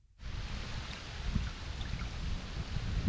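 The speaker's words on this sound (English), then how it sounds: "the weather's turned a little bit and we've actually got a little bit of rain" Light rain falls outdoors during a community walk in Langley, a steady, close hiss of drizzle with faint patters and no voices.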